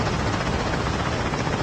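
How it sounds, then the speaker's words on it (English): A helicopter in the Call of Duty Mobile video game makes a loud, dense rotor roar and rushing wash, constant and close for a short stretch with no talk. "No, you're not about to take my helicopter."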